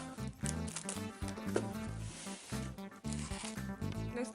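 A snack packet being torn and handled, with crinkly bursts of plastic rustling that come and go in uneven pulses, close and fairly quiet.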